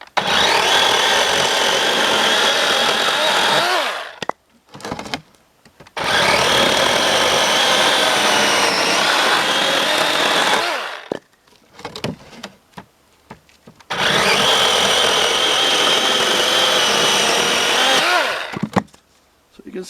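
A DeWalt 20-volt 12-inch electric chainsaw cutting through small firewood in three long loud bursts of steady buzzing, each lasting several seconds and separated by short pauses with faint handling noise.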